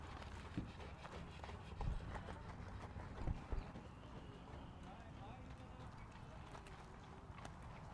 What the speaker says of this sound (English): Two horses there.